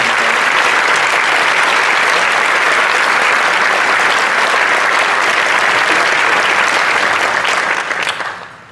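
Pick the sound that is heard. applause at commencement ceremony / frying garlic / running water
applause at commencement ceremony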